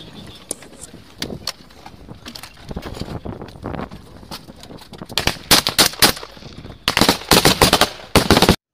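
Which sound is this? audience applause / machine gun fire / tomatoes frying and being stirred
machine gun fire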